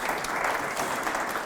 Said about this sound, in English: lovely, round of applause for Graham.